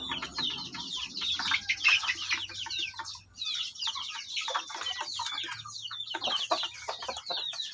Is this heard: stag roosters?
yes